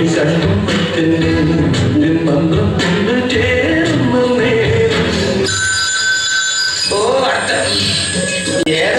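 A telephone rings with a bright electronic tone during a stage comedy skit, heard partway through amid loud voices and crowd noise.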